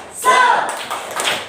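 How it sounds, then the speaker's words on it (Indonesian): A classroom of students gives a short burst of rhythmic spirit clapping (tepuk semangat), brief and close, with a few voices mixed in. "kita tepuk semangat dulu yuk"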